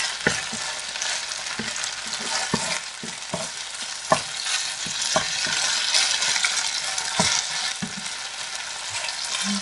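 Steady, loud sizzling of liver frying in a pan, with scattered sharp scrapes and clicks of a utensil stirring through it. No voices.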